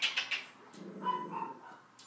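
Several sharp dog barks come in a quick burst at the start, followed by softer whining, yip-like sounds. The barking is moderately loud and close, and no talking is heard.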